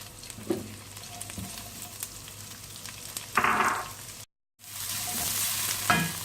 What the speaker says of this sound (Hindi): अब मैं करूँगी अनियन फ्राई, वेजिटेबल्स को।